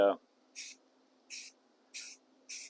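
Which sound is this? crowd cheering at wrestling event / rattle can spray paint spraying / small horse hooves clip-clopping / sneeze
rattle can spray paint spraying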